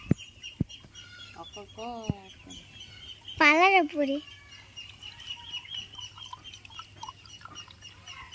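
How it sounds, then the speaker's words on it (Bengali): A chicken near a house clucks in a few short calls, then gives one louder, rising cackle, with sparse talking and light background noise around it. "ওদিকে মুরগি দেখো ডাকছে কেমন"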